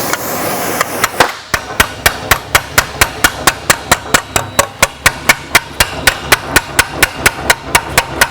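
Light, rapid hammer taps on a stainless steel exhaust tip, about two dozen evenly spaced metallic strikes close up, following a brief burst of rougher noise at the start.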